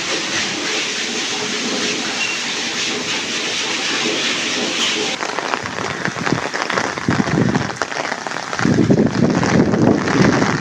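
Heavy rain falls on a village in Pakistan amid strong wind, a dense, loud steady hiss that grows rougher and heavier in gusting surges toward the end.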